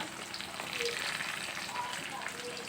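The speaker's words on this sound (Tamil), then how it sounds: "அது கூட ஒரு லெமன் சைஸ்க்கு வந்து புளி ஆட் பண்ணி நல்லா ஃப்ரை பண்ணோம்." Dried red chillies and tamarind frying in a pan, giving a steady close sizzle and crackle throughout, with no talk over it.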